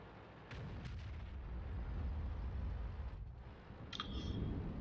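Distant D100 artillery guns firing in a real-time strategy video game, a few dull booms and crackling impacts rising over a low continuous rumble, fairly faint and with no voices.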